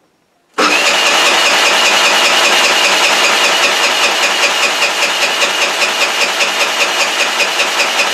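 A motor scooter engine turns over and fires after a near-silent start, then runs in a steady, loud, slightly knocking rhythm with no throttle applied, close by and with no talk over it.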